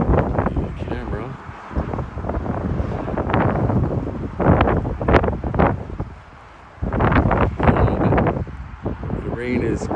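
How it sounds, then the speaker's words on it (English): Spring storm wind blowing on the Okanagan Valley west coast, a loud, steady buffeting rush against the microphone with brief gusty swells and lulls, running under a person talking throughout. "We are having a storm blow in."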